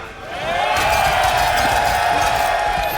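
A crowd at a Combo Breaker Mortal Kombat tournament cheers and roars. The sustained, loud wall of voices swells within the first half second and then holds steady throughout.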